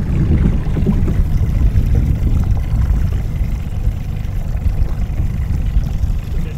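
Outboard engine on a small crabbing boat idles in neutral, a steady, loud low rumble that stays close and constant throughout, with water noise and no speech.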